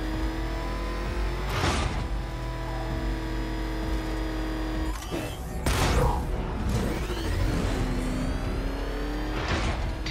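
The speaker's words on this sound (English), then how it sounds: "There's more to this test than just going vroom, vroom, really fast." Batmobile engine in Batman: Arkham Knight revs hard and accelerates in repeated loud surges, with whooshing bursts near 2, 6 and 9.5 seconds over a steady motor drone.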